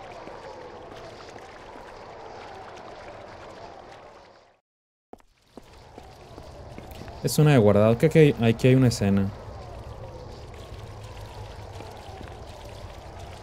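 Rushing water from a waterfall in the video game Koudelka, a steady broadband wash running through most of the scene, briefly cutting out, then returning beneath a spoken voice and a short musical chime.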